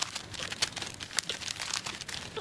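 Wrapping on a carefully packed parcel of baby items is torn open, making close, continuous crinkling and rustling with quick crackly bursts throughout.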